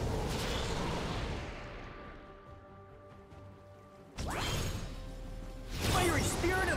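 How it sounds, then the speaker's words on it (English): Inhibitor destroyed in League of Legends: a loud crashing burst of structure destruction with whooshing game effects, fading into quieter ringing tones before another heavy impact and swelling game noise. "Red team's inhibitor has been destroyed."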